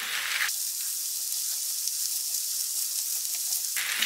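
Pork and vegetables sizzle in oil as they are stir-fried, giving a loud, steady crackling hiss throughout with no voices.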